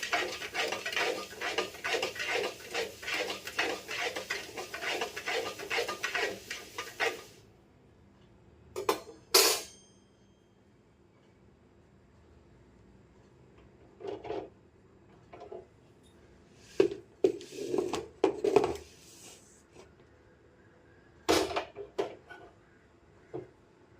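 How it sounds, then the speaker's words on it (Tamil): Pearl millet being roasted and stirred in a pan: a rapid, dense scraping and rattling of grains for about seven seconds, followed by scattered clinks and knocks of utensils against the pan, close by with no talk. "இப்போ கம்பு நல்லா வறுபட்டுருச்சுங்க."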